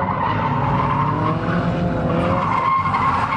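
A Mazda drifting at Santa Pod raceway: tires squeal loudly and continuously as the car slides, with engine noise underneath, heard at moderate distance with no talking.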